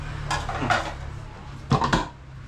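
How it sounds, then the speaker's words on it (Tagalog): Ceramic dinner plates set down, two clusters of clinking dish knocks close by, with a faint background hum between them. "Mga plato, dito muna natin lagay."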